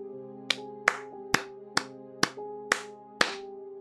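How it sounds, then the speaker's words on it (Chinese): Hand claps ring out in a horror story, seven sharp, separate claps at uneven intervals over a sustained, eerie tonal drone, with no voices. "不知从哪传来的拍手声"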